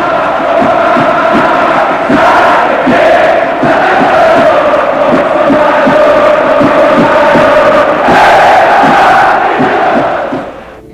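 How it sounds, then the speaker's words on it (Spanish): A packed football stadium crowd cheers and chants loudly for Maradona, a dense roaring mass of voices that swells in waves and fades slightly at the end. "El público aplaude."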